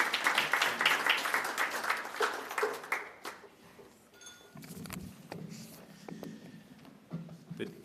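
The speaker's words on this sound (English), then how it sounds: "Please give a big round of applause" An audience at a provincial business breakfast applauds loudly for about three seconds. The clapping then thins out and fades, and a voice takes over.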